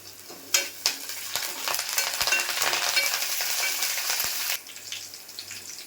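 Curry leaves go into hot oil with browned onion for a Malvani fish curry base, setting off a loud burst of sizzling and spluttering with stirring scrapes that ends abruptly near the finish.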